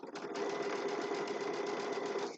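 A sewing machine stitches along a seam while piecing a quilt block, a close, brisk rapid whirring chatter that runs steadily for a couple of seconds before stopping.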